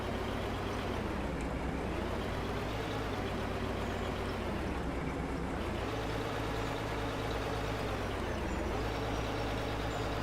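A truck engine runs with a continuous low, rumbling drone, its pitch swelling and dipping a few times as it revs, heard alone and close throughout.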